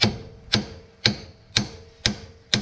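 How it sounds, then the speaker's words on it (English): Six sharp metallic hammer blows on a ball joint being knocked out, evenly spaced about half a second apart, each ringing briefly before the next strike. "Got me a hammer, about to beat this ball joint out of here."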